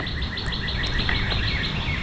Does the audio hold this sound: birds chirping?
yes